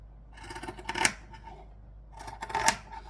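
Fiskars pinking shears cutting through fabric, giving two short bursts of crisp crunching snips, close and fairly loud, with no talking.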